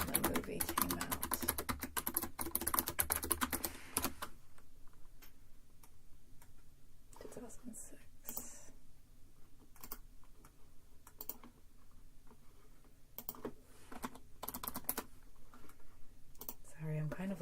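Someone types loudly on a computer keyboard: a dense, rapid clatter of keystrokes at first, then scattered bursts of clicks. The keys are close and crisp over a quiet room.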